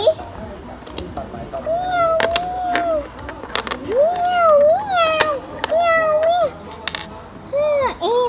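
Several short high meows, cat-like cries that sound imitated by a voice, come one after another with small clicks in between.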